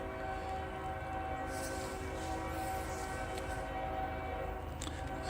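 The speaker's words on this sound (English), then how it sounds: "It's like a long train." A long train rolls past at a distance, a faint, steady rumble and rattle of wagons with a hint of a horn, running continuously throughout.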